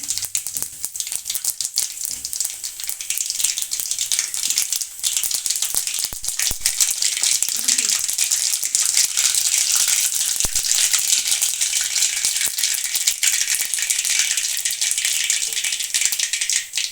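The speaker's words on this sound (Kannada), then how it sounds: "ಇವಾಗ ಎಣ್ಣೆ ಕಾದಿದೆ ಒಂದು ಅರ್ಧ ಸ್ಪೂನ್ ಸಾಸಿವೆ ಇದರಲ್ಲಿ ಸಣ್ಣ ಸ್ಪೂನಲ್ಲಿ ಒಂದು ಸ್ಪೂನ್ ಜೀರಿಗೆ ಹಾಕ್ತಿದ್ದೀನಿ ಸ್ವಲ್ಪ ಸಿಡಿಲಿ" Mustard seeds and cumin crackle and splutter in hot oil in a pan, a dense, loud, continuous sizzle scattered with sharp pops, with no talking.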